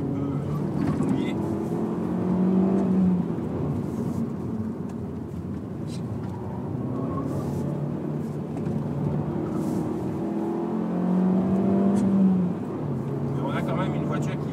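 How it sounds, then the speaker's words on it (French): Alfa Romeo MiTo QV 1.4 MultiAir 170 hp engine revving and accelerating on a wet road, a steady drone rising and falling in waves, heard from inside the car. "pour tester ce moteur qui est vraiment très disponible dès les bas régimes. Ça pousse très fort jusqu'à 6000 tours"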